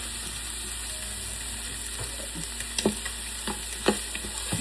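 Onions frying in butter in a pan with browned beef for a stew, a steady close sizzle with a few sharp crackles and pops toward the end.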